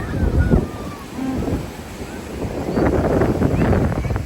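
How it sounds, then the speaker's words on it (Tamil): Sea waves wash up on Baga Beach in Goa, a rolling surf rush under gusty wind noise on the microphone, with faint voices of beachgoers around. "தண்ணி துரத்துது இதான் பாகா பீச்"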